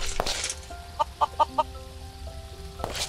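Four short clucks from a chicken in Minecraft, evenly spaced and moderately loud, standing out over a quiet game background with a faint click or two.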